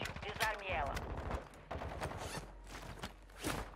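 Rapid gunfire from the video game Warzone 2.0 in third-person mode crackles in close, repeated bursts, with voices partly mixed in.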